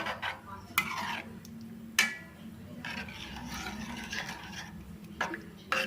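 Tamarind juice being stirred into a prawn curry in a pot, soft scraping strokes with a few sharper clinks of the spoon against the metal, quiet and close.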